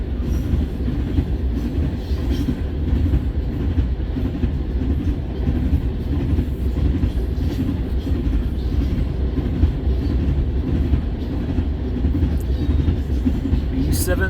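A CN manifest freight train rolls past on the rails in Ladysmith, Wisconsin, a steady close rumble of wagons with wheel clatter and occasional squeals throughout.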